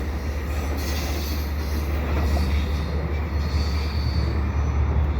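An EXO commuter train heading into the city passes nearby on a Sunday evening, with a steady rumble of rail cars and faint wheel squeal. The sound is continuous and fairly loud, with no voices.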